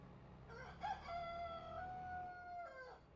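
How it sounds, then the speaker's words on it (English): A rooster in the farming game Farming Simulator 22 crows once in a long drawn-out call, faint and set against a quiet low background hum, with no talk. "loving that rooster"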